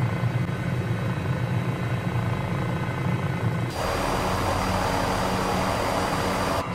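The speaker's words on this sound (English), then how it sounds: "This helicopter is very noisy, but it does come with headphones." Cowansim M500E helicopter in Microsoft Flight Simulator running with a steady, loud engine and rotor drone that continues unbroken, its tone turning brighter and hissier partway through, with no talking over it.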